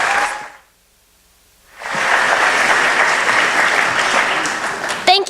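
A convention hall audience at a South Carolina FFA session breaks into loud, sustained applause after a brief near-silence, with a faint burst of clapping fading out just before the pause.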